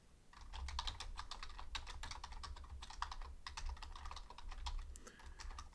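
Rapid, steady typing on a computer keyboard while Java code is entered, the close, busy clatter of keys running continuously with no one talking.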